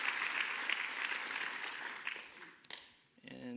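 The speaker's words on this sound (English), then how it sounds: "All of the teams, we should give them a quick round of applause." Audience applause for the teams behind an augmented reality event, a steady dense clapping that fades out near the end, followed by a voice starting to speak.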